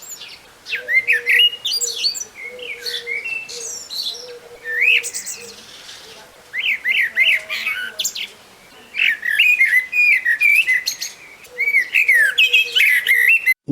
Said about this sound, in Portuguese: O melro preto.